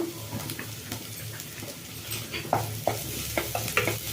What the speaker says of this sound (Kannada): ಎಳ್ಳು ಸ್ವಲ್ಪ ಫ್ರೈ ಮಾಡ್ಕೊಳ್ಳೋಣ